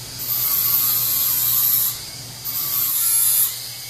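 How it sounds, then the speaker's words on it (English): Grinding a weld on a custom roll cage for a Can-Am X3 Turbo RR makes a harsh, high, steady whine in two close, sustained passes separated by a brief pause. "Alex, why is he grinding the weld so much?"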